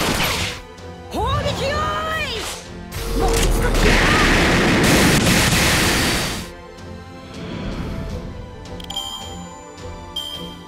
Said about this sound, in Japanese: よそ見してんじゃないよ。砲撃よ。